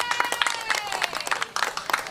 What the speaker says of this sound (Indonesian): boleh kita berikan tepuk tangan yang meriah dulu yang sudah hadir juga